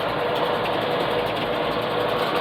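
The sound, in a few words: old tractor drivetrain making grinding noise with clutch out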